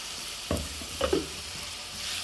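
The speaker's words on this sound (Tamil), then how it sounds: "தக்காளியை அரைச்சி வச்சு கிரேவியாக ஊற்றுங்க." Ground tomato goes into a hot frying pan for mushroom gravy, setting off a steady loud sizzle with a couple of brief stirring scrapes near the start and middle.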